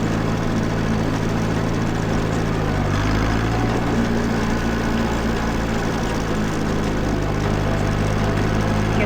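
A 1949 Farmall Cub tractor engine idles with a steady low rumble and chugging throb, close by and continuous throughout.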